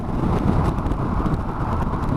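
Wind roar and steady engine drone from a Honda NC750X motorcycle cruising on a motorway at 70 mph around 3,500 revs, a constant loud rushing noise with no talking.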